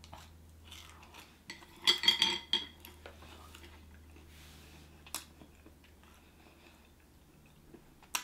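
Someone chews a last bite of deep fried rice cakes close up. Soft, crunchy bites come in a dense cluster early, followed by quieter intermittent chewing and a couple of faint clinks of utensils.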